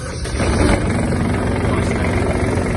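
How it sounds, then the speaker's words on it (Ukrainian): A Kubota GB-18 Japanese mini tractor's diesel engine running just after a glow-plug start, a loud, steady low rumble that fills the whole span without pause. "Заводиться трактор легко, добре."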